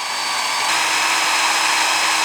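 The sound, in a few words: power drill drilling through camper roof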